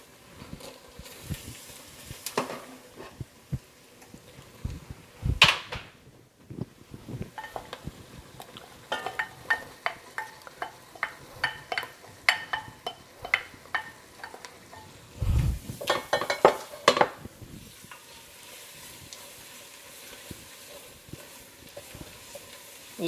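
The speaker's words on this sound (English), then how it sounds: "Constantly stirring that also." A roux with the trinity vegetables is stirred in a pot for crawfish étouffée, giving irregular scraping and clacking of a spoon against the pot over a soft sizzle, close, with a couple of louder knocks and no talking.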